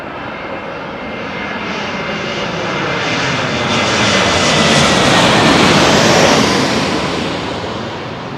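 Jet airliner passing high overhead at London Heathrow, a broad continuous roar that slowly swells toward a peak and begins to ease, loud and alone.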